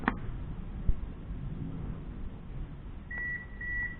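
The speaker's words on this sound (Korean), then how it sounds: "이 버튼을 소리가 삐삐 2번 날 때까지 눌러주시면 세팅이 됩니다" A soft click, then quiet rumble, followed by two short electronic beeps in quick succession from a Kia All New Carnival's tailgate button, fairly clear and close.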